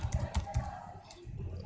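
Rapid, uneven keystrokes on a computer keyboard while coding a web page footer, close and fairly quiet, a run of clicks with a short pause midway.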